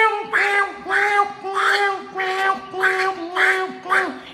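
A voice imitates a duck and a cat, making a steady series of about eight nasal, quacking calls in a regular rhythm.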